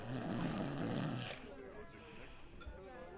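A person snores with a couple of rough, rattling inhalations up close, followed by quieter breathy sounds and faint background noise.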